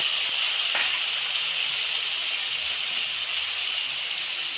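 Tomatoes added to hot oil with black cumin and spice paste in a pan, giving a steady, loud, broadband sizzle that holds evenly without pause.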